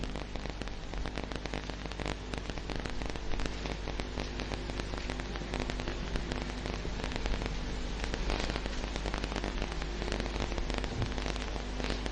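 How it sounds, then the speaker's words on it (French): Rain falls in a dense, constant wash of broadband patter, with sharp crackling drops on a surface throughout. "J'allais dire, oh, la pluie est là."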